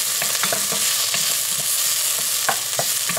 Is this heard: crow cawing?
no